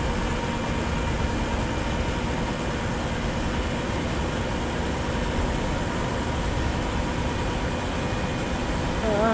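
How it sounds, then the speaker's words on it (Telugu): An APSRTC Vennela sleeper bus from Tirupati to Bangalore, driven fast in a bus-driving video game, gives a dense, steady engine and road roar that stays loud and unbroken throughout. "గట్టిగా పరిగెడుతుంది బస్సు అయితే"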